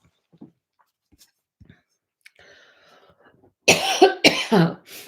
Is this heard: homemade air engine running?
no